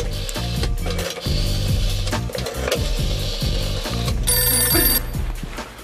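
A telephone rings during a children's prank TV show, its bright repeated ring sounding over busy, loud background music with a steady beat.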